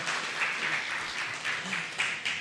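A church congregation gives applause to the Lord after a prayer, dense steady clapping with faint voices mixed under it.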